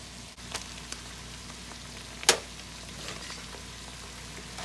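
Drained ground beef cooks in a pan with tomato paste and garlic, giving a low, steady sizzle and one sharp clack of a utensil, faint and with no voices.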